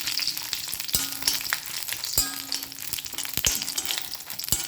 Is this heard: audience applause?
no